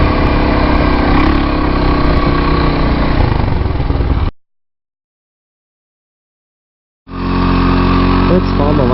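A motorcycle engine runs steadily and close while riding in Mui Ne, Vietnam. It drops into full silence for a few seconds, then the engine hum comes back.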